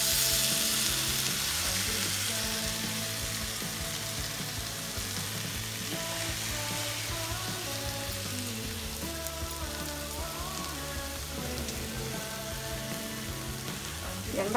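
Soaked moong dal sizzling and frying in a pan with capsicum, a steady close crackle and hiss that continues throughout with no talk.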